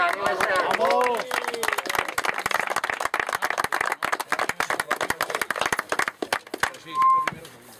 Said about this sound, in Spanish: Vamos, el aplauso.